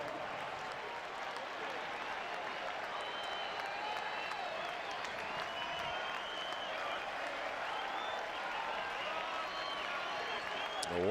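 A capacity crowd of 37,847 at a Milwaukee versus Boston baseball game applauds steadily as the batter walks to the plate, a continuous roar of clapping and cheering lasting throughout.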